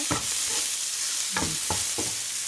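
Onions sizzle steadily in a hot kawali while cooking adobo, a continuous hiss broken by several scraping stirs of the spatula, close and fairly loud with no voices.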